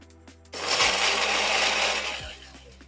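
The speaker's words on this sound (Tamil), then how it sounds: "முதல்ல இதை பவுடர் பண்ணி அடிப்போம்" A mixer grinder powders flattened rice (aval) for laddu: a loud, steady whirring roar that starts abruptly after a brief quiet moment and runs for about two seconds before easing off.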